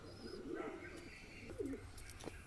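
Lakka fantail pigeons coo in a cage, two soft rolling coos close by, with faint background noise.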